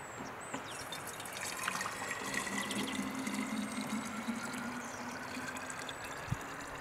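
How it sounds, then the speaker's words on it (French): Liquid pours steadily from a plastic jug into a bottle, a continuous soft trickling and gurgling stream lasting several seconds with no talk, ending in a brief faint knock. "transvaser en plusieurs étapes le contenu du bidon et à chaque bouteille remplie, compter dans notre tête 1 litre"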